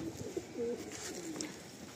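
Madrasi pigeons kept for sale in Kolkata, with a pigeon giving soft, brief coos a couple of times against a quiet background hiss, fairly faint and with no talking.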